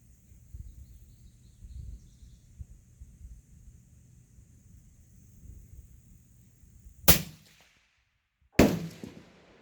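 Two loud, sharp rifle shots ring out at an outdoor shooting range about a second and a half apart, each cracking alone after a long stretch of quiet low rumble.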